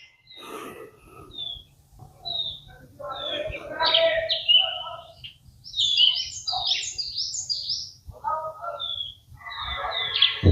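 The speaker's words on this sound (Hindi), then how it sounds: "चिड़िया की आवाज है" Small birds chirp and tweet outdoors in varied, bright repeated calls, fairly close, while people talk quietly underneath and a low background hum runs throughout.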